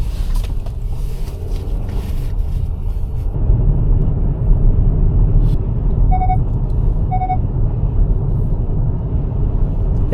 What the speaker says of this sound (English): It's quite an experience driving through these lava fields.